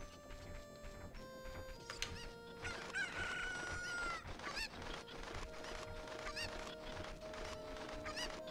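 Chickens in the video game Ocarina of Time cluck and crow repeatedly over game music, with several loud overlapping squawks and honking calls throughout.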